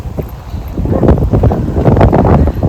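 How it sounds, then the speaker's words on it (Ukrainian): Gusty wind blowing outdoors at sunset in autumn Kharkiv, buffeting the microphone in loud, rough rumbling surges that swell and fade throughout. "Але вітер такий, я не знаю, вам чутно чи ні."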